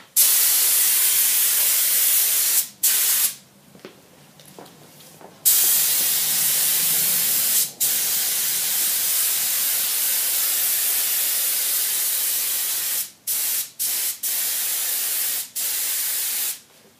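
A paint sprayer hisses steadily as it coats an interior wall, long loud bursts of spray broken by brief pauses and several quick on-off triggers near the end.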